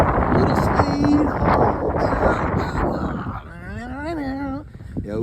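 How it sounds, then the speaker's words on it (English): Wind blows hard outdoors in Alabama, buffeting the microphone with a loud, continuous rumbling roar, while someone talks over it. "Man, it's windy out here."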